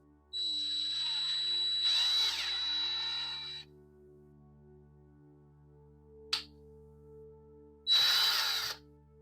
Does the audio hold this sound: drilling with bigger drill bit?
yes